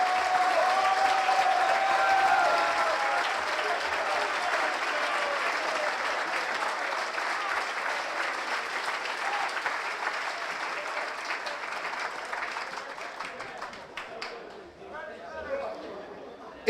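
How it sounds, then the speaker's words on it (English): At a Mountaineer Boys State assembly, a large audience gives two candidates a round of applause, a long steady roar of clapping with a brief whistle and scattered chatter, tapering off into a few lingering claps. "I would like for you to give both of these gentlemen a round of applause"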